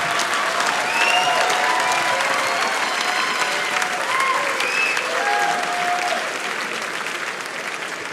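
Comedy club audience applauding steadily and loudly for several seconds after a stand-up joke about a mother, a dense even wash of clapping with scattered voices and cheers, fading slightly toward the end.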